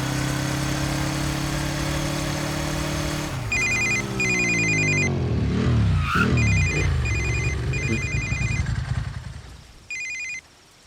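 A telephone rings in repeated electronic trill bursts over a loud engine-like drone and dramatic film music, with the ringing pausing and returning several times in a Hindi-dubbed action movie scene.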